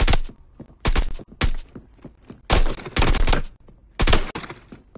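Bursts of rapid gunfire crack out in a close-quarters battle training arena in a VR game, several loud, tight volleys separated by short pauses, close and dominant with no talking.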